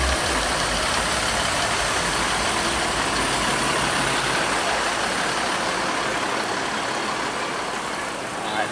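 A Hino Neo RN 285 bus engine idles steadily and loudly up close, a constant dense rumble that barely changes, with faint voices in the background.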